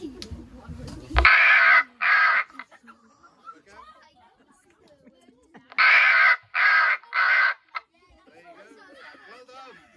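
Two sets of loud, raspy cawing calls from a person imitating a crow, a pair and then a triple, separated by quiet chatter in the background, close.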